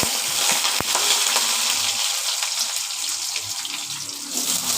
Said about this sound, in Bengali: এই যে আলুগুলো ভাজা ভাজা হচ্ছে, লাল লাল করে ভাজা হোক আগে।